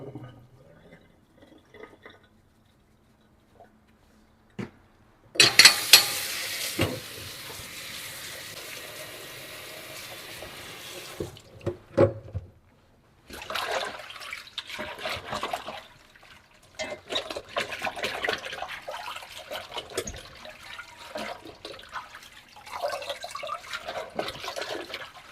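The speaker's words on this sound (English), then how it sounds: "Now I'm going to wash one more time with just baking soda." Fish washed by hand in water with baking soda: running tap water splashes and trickles, with sloshing and handling noises that come and go, broken by quiet pauses.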